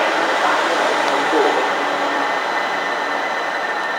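A train at London St Pancras International station sounds as a continuous, loud broadband rumble and hiss with steady rolling noise throughout.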